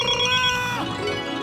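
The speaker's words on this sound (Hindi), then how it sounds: "अरे घंटी कब से बज रही है, फोन तो उठाइए।" A telephone rings indoors in a family comedy scene, its steady electronic tone repeating continuously at moderate loudness with faint background sound and no talk over it.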